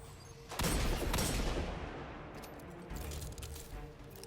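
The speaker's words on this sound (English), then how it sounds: "Who's shooting me?" Gunfire in the video game Destiny 2 rattles toward the player in a dense, loud volley, then fades, and a second, shorter burst follows.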